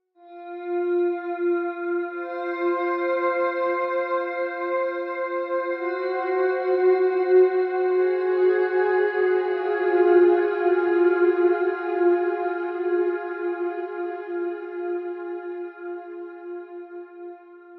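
A sustained, harmonically rich tone processed through the G T4R reverb plugin swells and rings out with a lush, echoing reverb tail, fading slowly at the end; no voices.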